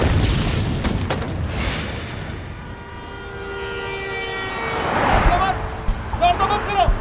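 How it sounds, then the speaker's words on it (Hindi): A booming explosion from a dubbed Hindi alien series, set among passing cars and shouting voices, with rumbling and clatter swelling near the end. "ये कारें आ जा रही हैं और धमाका"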